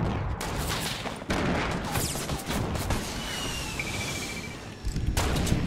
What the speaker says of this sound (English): Throwing grenades at their base.